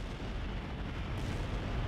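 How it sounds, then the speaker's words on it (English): Rumbling, continuous blasts of multiple explosions from a city below, London, dense low booming with no pauses, loud and sustained throughout with no voices. "the sound of multiple explosions can be heard from the city below"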